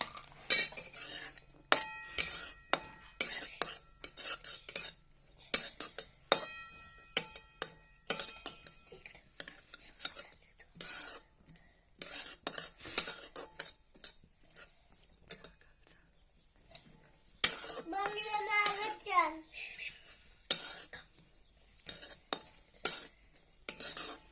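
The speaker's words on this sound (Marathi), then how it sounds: "कांदा परतून घ्यायचा आहे आधी चांगला तर कांदा परतून घेऊया आपण" Onion sautéing in a pan, with frequent sharp clinks and scrapes of a metal utensil stirring in irregular bursts, close and clear, while someone talks softly at intervals.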